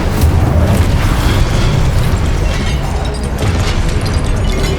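Incendio fire spell cast in the video game Hogwarts Legacy: a loud, dense roaring blast with deep rumbling booms that runs on for several seconds without a break.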